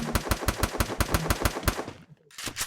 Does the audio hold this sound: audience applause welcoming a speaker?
no